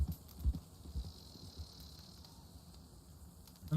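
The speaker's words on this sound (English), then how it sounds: "Ah, another horse riding." Horse hooves in Red Dead Redemption 2 thud faintly and rhythmically as the horse approaches, set against a soft background chirr of crickets and insects.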